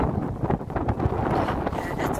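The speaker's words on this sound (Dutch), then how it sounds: "Het waait, het waait." Gusty wind buffets the microphone in loud, rumbling bursts, with a continuous low roar throughout.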